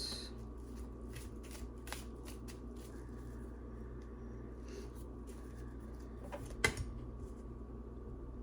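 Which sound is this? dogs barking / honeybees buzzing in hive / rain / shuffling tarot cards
shuffling tarot cards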